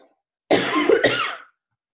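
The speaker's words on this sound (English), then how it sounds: "I will cough a little bit because, I'm losing my voice" One harsh cough sounds close to the microphone, a two-part burst lasting about a second, with silence before and after it.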